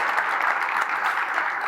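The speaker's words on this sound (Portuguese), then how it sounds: "Eu quero uma salva de palmas para esse cara." Audience applause at a talk show, a brief, even and dense burst of many people clapping, continuous throughout with no speech on top.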